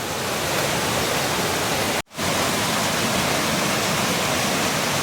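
Mettuguda waterfall at Seethampeta, flowing heavily, fills the scene with a loud, even rushing roar that cuts out briefly near the two-second mark before resuming unchanged.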